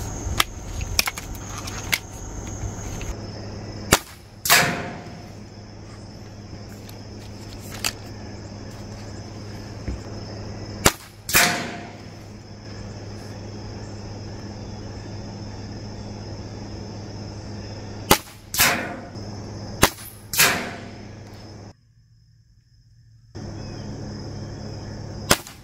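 Swarm Fusion 22 Mag Gen 3 air rifle fired with Gamma Rockets pellets, several sharp snapping shots spaced seconds apart over a steady outdoor hum, each shot crisp and close with a brief ringing tail.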